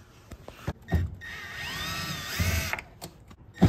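A power tool whirs in short spurts while removing screws from a 1996-2000 Honda Civic door panel, with a higher whine rising and falling mid-clip, intermittent clicks and knocks, fairly quiet, with no talking.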